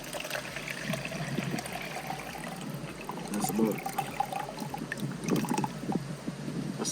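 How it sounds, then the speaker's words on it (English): Liquid is poured into a 32-ounce plastic spray bottle outdoors, a close gurgling trickle with small plastic clicks and knocks, rising in bursts as the bottle fills. "Pour that in just like that."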